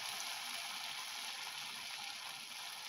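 Pieces of chhana fry in hot oil in a kadai, giving a steady, soft hiss and sizzle that holds even throughout, with no voices.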